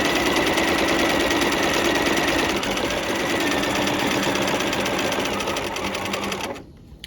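A sewing machine stitches a narrow roll hem beside pearl cotton at a short 1.5 stitch length, running as a steady, loud, close-up mechanical whir for about six seconds before stopping abruptly.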